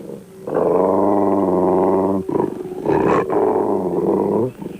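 Wolves give a loud, close, rough, low harmonic vocalisation, one long sustained call followed by a shorter broken run of calls, alone with no talk.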